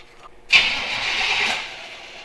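The engine of a Jeep Wrangler YJ cranks with a single steady whirring burst of about a second that starts abruptly, then fades without catching.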